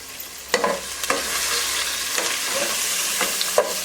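Chopped capsicum fries in plenty of oil with a steady close sizzle, while a spoon scrapes and stirs the pan in several sharp strokes.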